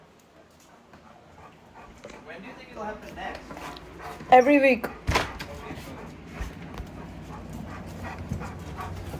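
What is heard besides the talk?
dog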